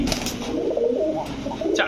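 Pigeons in a Bengali pigeon-keeping setting give low, rolling coos that rise and fall continuously, close and fairly loud, with a brief higher note near the end.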